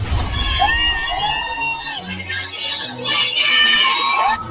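A large crowd of Paytm staff shouts, screams and cheers in excited celebration, a dense, loud, continuous roar with high whoops rising throughout.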